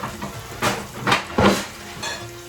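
A lid clinks onto a metal cooking pot of green bananas and shrimp on a medium-heat stove, a few close metallic knocks and clatters over a soft background sizzle, with no talking.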